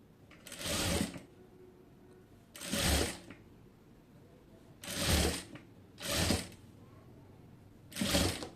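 A sewing machine stitches lace onto a kameez hem in five short bursts of rapid whirring, each about a second long, with quiet pauses between runs.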